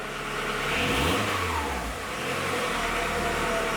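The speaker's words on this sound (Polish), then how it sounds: "Jak silnik jest właśnie gorący, to on z obrotami idzie na dół i do góry." The warm engine of a VW Polo 6N, shown during an exhaust flex-joint repair, hunts on its own, its revs climbing and sagging in a slow wave. The steady, loud mechanical hum continues with no speech.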